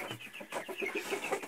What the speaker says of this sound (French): Ça c'est un coq, j'en suis quasiment sûr